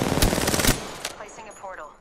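Rapid automatic gunfire in a shooter video game, a dense rattling burst lasting about a second before fading into softer shots and ambient game sounds.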